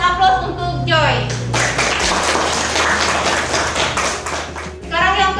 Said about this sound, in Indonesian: kita berikan aplaus untuk Joy.